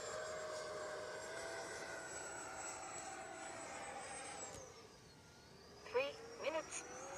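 An FMS 80mm Dassault Rafale RC model jet flies a loop at a 4th of July event, its ducted-fan whine holding steady and then bending in pitch as it passes. The whine fades, and a few short sharp bursts follow near the end.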